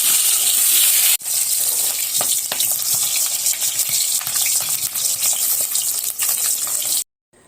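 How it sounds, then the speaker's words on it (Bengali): Eggs frying on a stovetop, with a steady close sizzle and crackle that runs nearly unbroken, plus scattered small pops and clinks, briefly cut near the start and ending abruptly. "চুলাতে একদিকে ডিম হচ্ছে আর একদিকে বিরিয়ানি হচ্ছে"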